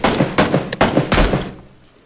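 Gunfire hits a player in the PUBG video game, with about five loud, close shots in quick, uneven succession before the sound tails off into quiet.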